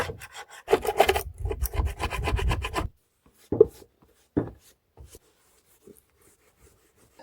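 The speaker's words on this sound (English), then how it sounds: "Make sure there's no old gasket on there. That's all the material that's being scraped off." A scraper rasps old gasket material off the edges of an engine oil pan in a home engine rebuild, with dense rubbing strokes for the first few seconds, then a few isolated short scrapes before near silence.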